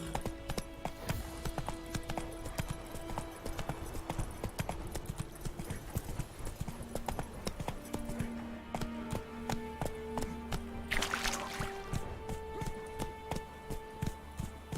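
Horse hooves clip-clopping in a steady trotting rhythm while riding in The Witcher 3, close and continuous, with a faint voice and game ambience underneath.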